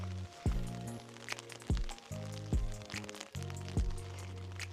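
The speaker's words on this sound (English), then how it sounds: "it's raining pretty bad right now" Heavy rain drums on a backpacking tent at a campsite on a mountain trail, a steady wash of patter broken by repeated dull thumps of larger drops striking the fabric close by.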